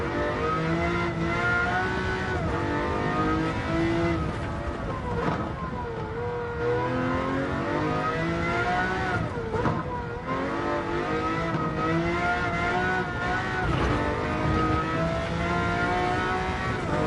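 A race car in Gran Turismo 7 screams through repeated high-revving acceleration runs, its engine note climbing and dropping with gear changes, loud and continuous on a long straight with no talk.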